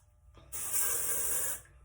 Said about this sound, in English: I'm just going to spray the mid shaft, and I'm going to go all the way down my hair doing that.